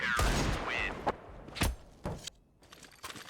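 Pistol fire in Counter-Strike on the Dust 2 map comes as a few sharp, close shots spaced irregularly among thuds and footsteps, loud at first and then thinning out, with no talk.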